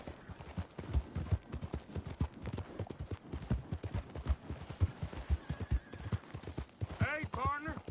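Horse hooves clip-clop steadily at a brisk pace in the video game Red Dead Redemption 2, close and rhythmic, and a short whinny comes near the end.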